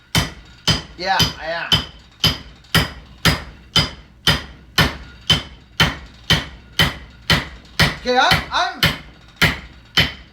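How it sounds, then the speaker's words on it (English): A ball peen hammer pounds an axe head to seat it on the handle, with loud, sharp, evenly spaced strikes about twice a second throughout. Someone speaks briefly between blows. "that was a beating with the ball peen hammer, like a mashing of a beating"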